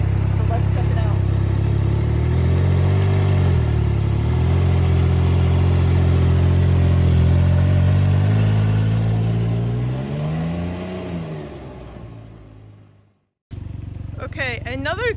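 Motorcycle fitted with a smart brake module ridden slowly around a home driveway, its engine note loud and close, rising and falling with throttle for about twelve seconds before cutting out briefly and returning.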